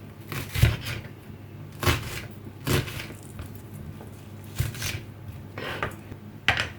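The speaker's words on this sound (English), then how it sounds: "Then cut the onions also." A knife chops through onions on a board for a blended cooking sauce, giving about six separate thuddy cuts at an uneven, unhurried pace, close and fairly loud with no talking.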